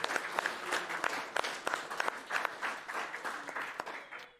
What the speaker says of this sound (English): So let's give High Spirits a big round of applause.